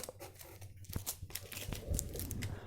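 Mage Knight board game cards are shuffled by hand, giving a close, quiet run of crisp riffling and papery slaps in irregular bursts, with no speech.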